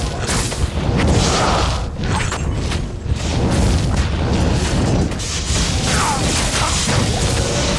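Armageddon fire spell explosions from a fire druid in Diablo 2 boom and crash repeatedly in dense, loud bursts with overlapping impacts throughout, like constant combat.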